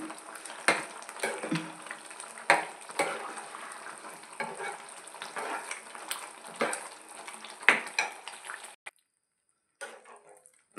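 Gravy with makhani is stirred in a cooking pot, giving steady sizzling and frying with repeated scraping clicks of the spoon, before a brief pause and a few final stirs.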